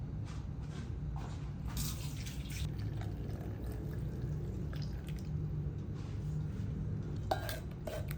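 Blended ash gourd juice, thinned with a little water, is strained through a filter in a home kitchen, giving a steady close trickle and drip of liquid with faint clinks, unbroken throughout and with no voices.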